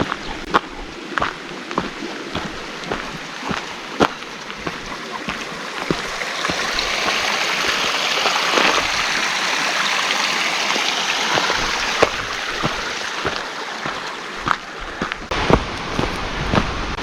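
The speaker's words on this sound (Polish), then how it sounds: "teraz wyraźnie słychać rzekę." A mountain stream in the Łomnica valley of the Karkonosze flows close by with a steady, loud rushing hiss that swells slightly midway. Occasional sharp clicks and taps sound over the water.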